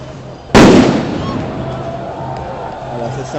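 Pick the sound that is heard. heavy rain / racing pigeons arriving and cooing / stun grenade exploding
stun grenade exploding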